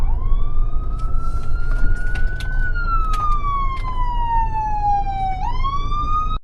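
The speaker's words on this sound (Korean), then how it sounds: "경찰차에 앰뷸런스에 뭐 차는 밀리고" A police car siren wails loud and close in slow rising and falling sweeps, with an ambulance also present, amid congested city traffic in New Jersey. A steady road rumble sits underneath.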